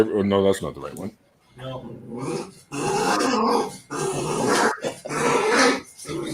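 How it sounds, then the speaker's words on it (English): A small dog snarls and growls in short bursts close by, mixed in with people talking loudly over it. "she will snarl like that"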